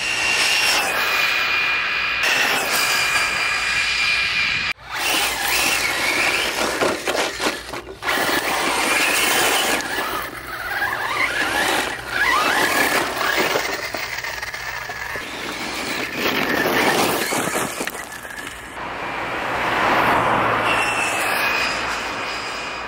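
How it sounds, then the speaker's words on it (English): ARRMA Senton V3 1/8 scale RC truck running flat out, a loud continuous high-pitched electric motor whine with tire and drivetrain noise that rises and falls as it speeds past, with clattering bumps throughout. "ARRMA Senton top speed out of the box."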